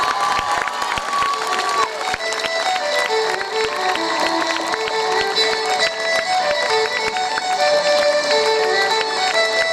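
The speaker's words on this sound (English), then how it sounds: "I want you to give a big round of applause for Madam Asma Chima" Audience at a prep school's annual English play reacting together, a dense, loud, sustained wash of crowd noise, cheering and clapping that holds steady for the whole stretch, with music-like tonal lines running through it.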